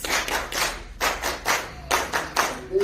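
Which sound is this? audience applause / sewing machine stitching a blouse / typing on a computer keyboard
audience applause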